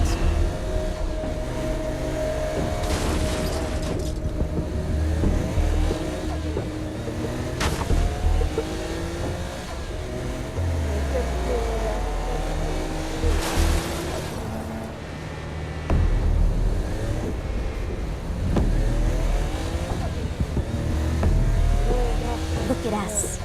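Car engine and road noise from the video game Saints Row: Gat Out of Hell, a steady drone with shifting engine pitch and occasional whooshes, with people talking over it.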